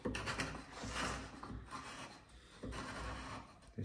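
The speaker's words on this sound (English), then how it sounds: "just gonna scrape just anything that shouldn't really be there, just with a bevel edge chisel, just the bottom of that groove" A bevel edge chisel scrapes the bottom corner of a groove cut in wood during a hand tool carpentry exercise, giving close, quiet, repeated rasping strokes with brief pauses between them.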